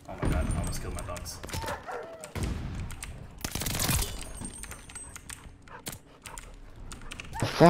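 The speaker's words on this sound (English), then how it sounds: "Oh my god, I almost killed my dogs." Attack dogs bark in Call of Duty Vanguard during a Search and Destroy match, mixed with bursts of gunfire and keyboard clatter while people talk over the action.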